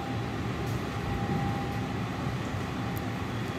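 Train at a railway station at night, a steady low rumble and hum of rolling stock close by, continuous, with no speech.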